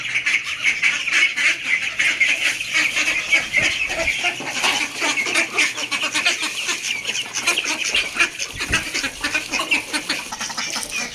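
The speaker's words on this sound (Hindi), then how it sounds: "अपनी डक्स और देसी मुर्गियों को दाना डाल देते हैं। देखिए कितना शोर मचाया इन्होंने।" Ducks and native desi chickens call noisily together in the morning, a dense, continuous chorus of quacks, clucks and honks close by, with no talking.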